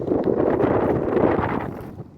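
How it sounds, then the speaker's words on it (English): Strong wind buffets the microphone in a steady, low roaring rush, loud and continuous with slight gusting. "It's too windy!"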